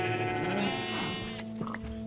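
Sheep in the Minecraft video game bleat in a wavering, harmonic call at close range, followed by a few short clicks and game sounds, with no talking over it.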